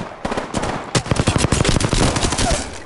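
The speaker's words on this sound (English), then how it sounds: "Listen up, I'm getting shot at." Rapid automatic gunfire from the video game Apex Legends rattles out in loud, close bursts, with dense rhythmic shots packed tightly together through most of the stretch.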